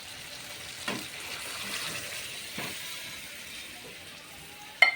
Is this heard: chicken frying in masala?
yes